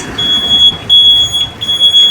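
Bus door opening chime on a Dubai bus: a steady high electronic beeping tone sounds in repeated pulses, loud and close, over low vehicle rumble with no one talking.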